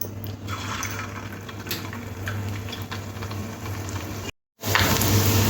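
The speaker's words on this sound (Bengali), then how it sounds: "এবার গরম তেলের মধ্যে একটা একটা করে দিয়ে দেবো" Chicken balls dropped one by one into very hot oil fry with a steady, close sizzle, broken by a brief gap of silence.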